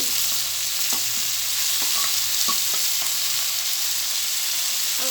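Tomato and chili frying in a pan with a steady sizzle, punctuated by light scraping stirs and clinks of a utensil, close up with no talking.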